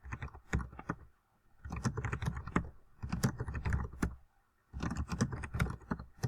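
Typing on a computer keyboard, close and clear, comes in three bursts of rapid clicking keystrokes separated by short pauses.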